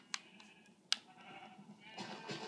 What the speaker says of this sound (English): Oh, more sheep is here.